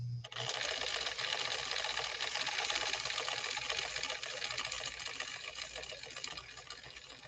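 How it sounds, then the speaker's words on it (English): A sewing machine stitches through two layers of heavy-grade denim in one continuous fast mechanical rattle, close and steady for several seconds with no talk. "We're sewing through 2 layers of heavy grade denim."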